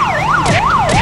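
A loud, close emergency siren wails in a rapid rising-and-falling sweep near Malecón Beach in Haiti, the cycle repeating several times with nothing else heard.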